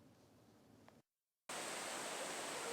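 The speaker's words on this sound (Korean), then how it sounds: "물 흐르는 소리부터가 시원스러운 광양 성불계곡입니다" Water from the Seongbul valley stream on Baegunsan mountain in Gwangyang rushes with a steady hiss that cuts out for a moment, then returns louder and fuller.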